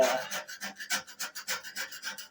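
A putty knife scrapes old paint from a wooden box-truck door in a run of about ten close, rhythmic rasping strokes, each one a short dry scratch with little pause between them.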